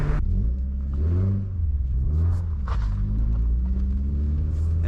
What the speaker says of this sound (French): On va faire chauffer un peu le moteur. Et après, on va aller écouter un peu ça.